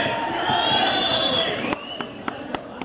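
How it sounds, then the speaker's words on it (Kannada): A loud, noisy crowd clapping and cheering at a political gathering welcomes new members joining the JDS party, a continuous wash of sound that thins into a few sharp separate claps near the end. "ನಿಮ್ಮ ಜೋರ ಚಪ್ಪಾಳೆ ಮುಖಾಂತರ ಸ್ವಾಗತವನ್ನು ಬಯಸ್ತೇವೆ"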